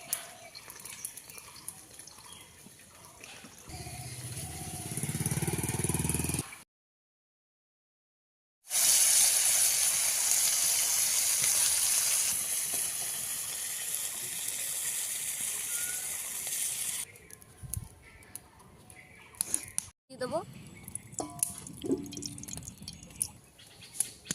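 Rohu fish pieces fry in oil for a Bengali fish curry, giving a continuous crackling sizzle that swells louder after a brief silent gap and then settles into a softer, steady hiss.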